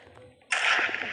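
A single sharp gunshot rings out in a video game, a sudden loud crack followed by a hissing tail that fills the rest of the moment.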